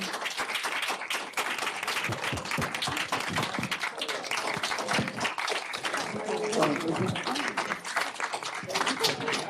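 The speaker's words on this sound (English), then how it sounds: "Please give your colleagues a big round of applause." Audience applause for colleagues at a college service day, dense clapping sustained throughout with voices mixed in beneath it.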